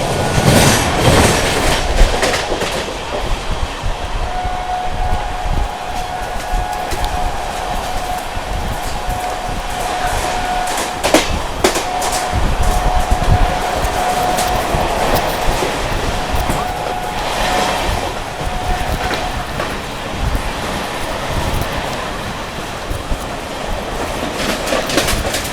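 An Amrit Bharat express train speeds through a junction, a loud continuous rumble of wheels and carriages with steady clickety-clack and a thin sustained metallic squeal partway through, no voices.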